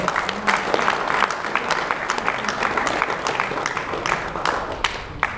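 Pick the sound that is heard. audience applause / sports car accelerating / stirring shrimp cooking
audience applause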